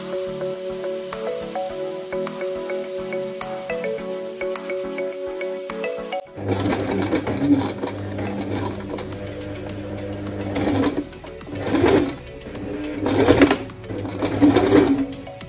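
A sewing machine stitches a seam on a fabric face mask. It starts with a steady, even stitching rhythm, then shifts into louder, fuller runs with surging bursts of speed, heard up close and alone.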